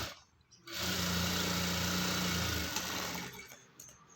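A sewing machine stitching kurti cloth runs in one steady, close mechanical whir for about two and a half seconds, then winds down.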